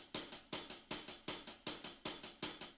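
Hi-hat alone keeping time in a 2011 drum part, crisp metallic ticks falling in a steady repeating pattern of paired hits, bright and dry with quick decays.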